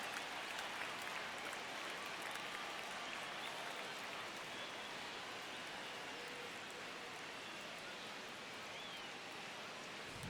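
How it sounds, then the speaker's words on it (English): A baseball stadium crowd at a Giants vs Dodgers game applauds in a steady, distant wash of clapping that holds at an even level throughout, with no clear voices on top. "you can feel this crowd waking up a bit here"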